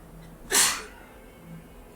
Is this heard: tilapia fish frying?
no